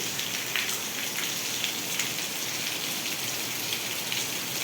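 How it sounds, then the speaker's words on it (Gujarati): Steady rain falls at night with wind in Vejalka village, Ranpur, Botad district, Gujarat, a continuous hiss with scattered drops tapping close by and no voices. "તમે જોઈ શકો છો વરસાદ અત્યારે ચાલુ છે"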